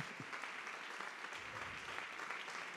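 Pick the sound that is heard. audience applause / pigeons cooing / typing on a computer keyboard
audience applause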